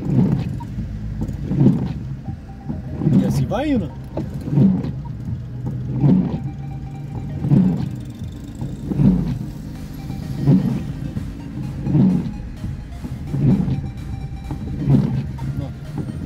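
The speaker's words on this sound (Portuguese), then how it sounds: "Os carros tudo uma vez agora." Cars and buses pass one after another on a road in Navegantes, SC on a heavily overcast, stormy day, a steady rhythm of loud nearby engine and tyre swells with a voice talking over the traffic.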